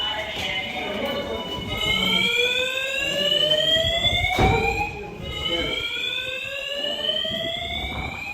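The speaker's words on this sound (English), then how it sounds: "Luckily, this was a false alarm." A building fire alarm blares a steady, loud electronic tone with rising sweeps, and a recorded evacuation announcement runs through it at a holiday stay in Curaçao.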